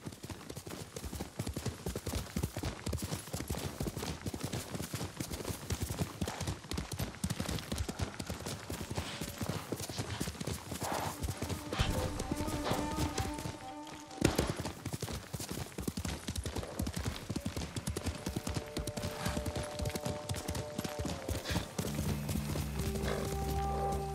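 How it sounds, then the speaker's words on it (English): Kage, a horse in the video game Ghost of Tsushima, gallops with steady rapid hoofbeats and an occasional whinny, laid over a continuous game soundscape and music tones that rise later on. "Good horse, Kage."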